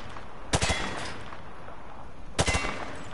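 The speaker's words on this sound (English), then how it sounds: "He sprayed bullets all over the damn place." Two quick bursts of rifle fire from the hip in Call of Duty Modern Warfare 2, each a short rattling volley of a few shots, separated by a couple of seconds of quiet background ambience.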